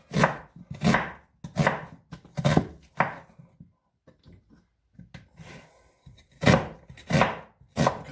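Knife chopping beef cheek ingredients coarsely on a board, in several bursts of rapid, close, crisp strokes separated by short pauses.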